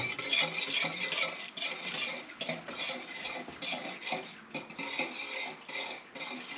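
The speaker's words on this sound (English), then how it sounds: "Just continue to stir it until it thickens." A utensil stirs banana pudding mixture in a pot as it thickens, making a steady run of close scraping and soft wet swishes with occasional light clinks against the metal.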